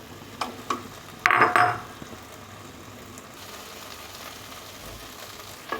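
Taro and prawns are tipped into frying spice paste and stirred, giving a few utensil knocks, a loud burst of sizzling, then a softer ongoing crackle.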